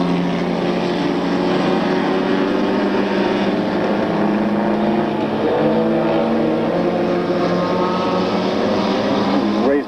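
Race cars circle a track in a loud, continuous engine roar whose pitch rises and falls as they pass, with a faint hint of commentary underneath.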